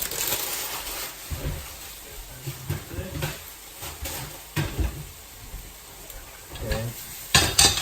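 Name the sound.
stir-fry vegetables and sweet corn added to pan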